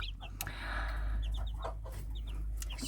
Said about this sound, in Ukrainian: Мені здається, що тут дуже багато півників